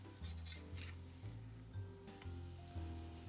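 A burger fries on a hot griddle, a close, crackling sizzle that runs throughout with a few light scrapes and clinks on top, and no voices.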